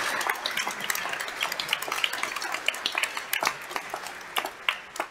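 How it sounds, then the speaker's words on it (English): A church congregation at the Easter Vigil claps steadily to welcome guests, a dense, even applause that carries on for several seconds with no talking. "can we give them a round of applause of welcome"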